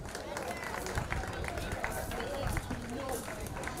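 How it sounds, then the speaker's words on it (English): A crowd claps for the drivers at a junior karting trophy opening ceremony, steady applause with some hubbub, heard somewhat distantly. "Round of applause again for the drivers."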